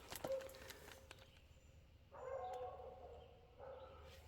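Faint, distant barking and baying from a neighbor's beagles comes in two or three short bouts, heard outdoors over a low steady background.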